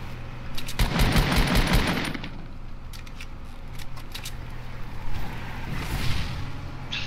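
Gunfire in a Fortnite match: rapid automatic bursts crackle near and loud, with later scattered shots and swishes, while players talk.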